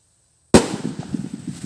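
A Laguna firecracker goes off with a single sharp, loud bang after near silence, followed by a crackling, rumbling decay.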